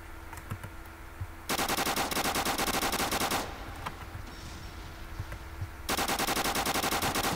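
Rapid automatic gunfire in the Roblox shooter COR 5, two long bursts of fast, evenly spaced shots with a quieter gap between them and light keyboard clicking underneath.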